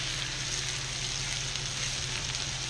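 Onions and browning meat frying in a pan for homemade ravioli filling, a steady close sizzle, loud and even with no talk.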